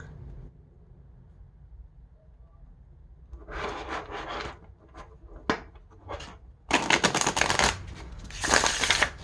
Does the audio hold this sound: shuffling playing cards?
yes